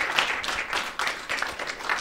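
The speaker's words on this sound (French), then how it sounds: "que je vous demande d'applaudir" An audience applauds a professor at a talk on literature and the arts in Burkina Faso, with uneven bursts of clapping that swell and dip over two seconds at moderate distance.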